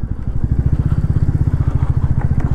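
A motorcycle rides a rough, dusty Kathmandu road. The engine throbs loud and close in a fast, steady pulse, with rattling and crunching from the uneven surface and no talk.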